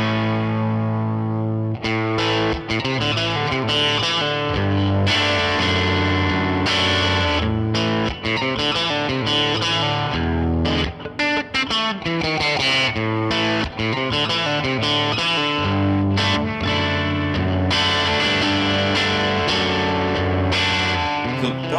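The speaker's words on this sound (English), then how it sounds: "Rock stuff through a Fender style amp." Electric guitar with a driven rock tone played through a digital Fender-style amp, loud and continuous riffing with sustained distorted chords and quick note changes, alone with no talking.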